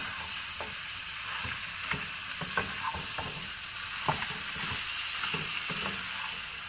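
Mutton curry being stirred in a hot pan, a steady sizzle and frying hiss running throughout, with repeated scraping stir strokes. It sits close and moderately loud, and no one talks.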